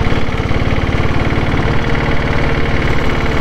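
A Royal Enfield diesel Bullet motorcycle engine idles steadily up close, with a rapid, even low thumping beat that holds throughout.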